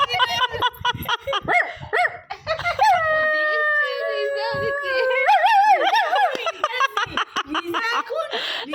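A person imitates a dog's drawn-out howl at an evening rooftop gathering, a wavering tonal call lasting a few seconds amid laughter and chatter from several people.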